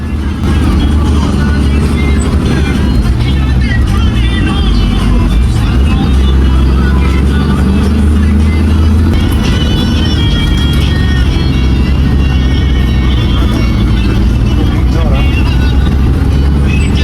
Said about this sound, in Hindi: बस ने फिर से रफ्तार पकड़ ली है